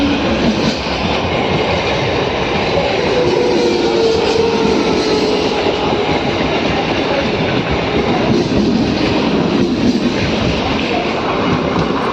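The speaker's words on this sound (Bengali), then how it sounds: "একটা ট্রেন আসছে।" A train rumbles past nearby, a steady, loud roar of wheels on rails with faint clickety-clack throughout.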